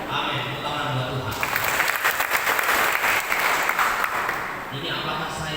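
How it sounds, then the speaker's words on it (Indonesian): A church congregation at a Christmas service claps for God, starting after a brief moment of quieter sound and swelling into full, dense applause before easing off near the end, with a little talk underneath. "Tepuk tangan buat Tuhan."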